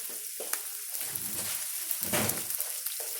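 Shin Ramen noodles stir-fried in a pan, sizzling and hissing steadily with bursts of louder frying as the noodles are tossed and stirred, close and continuous.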